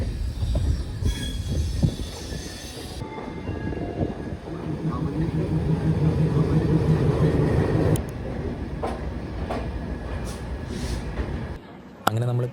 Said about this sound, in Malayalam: അങ്ങനെ നമ്മൾ മെജസ്റ്റിക് റെയിൽവേ സ്റ്റേഷനിലേക്ക് എത്തിക്കൊണ്ടിരിക്കുകയാണ്